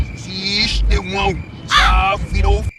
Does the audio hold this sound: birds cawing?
yes